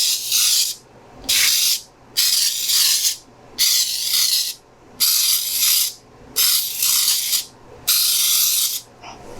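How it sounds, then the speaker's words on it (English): Seven or eight short bursts of flour baking spray hiss close up onto a cake pan, evenly spaced with brief gaps between them. "So I use the flour kind of spray."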